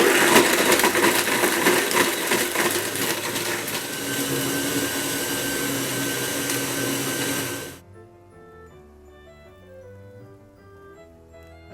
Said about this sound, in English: we're going to blend this for about 30 seconds, just enough time for the ice to break up and to have a little bit of froth on top